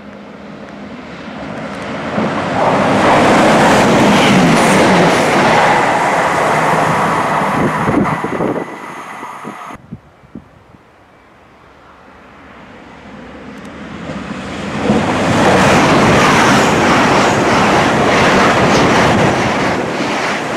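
An LNER passenger train from Aberdeen rushes past close by at Laurencekirk station in a loud, roaring swell, fades to quiet, then another heavy rumble builds and roars again.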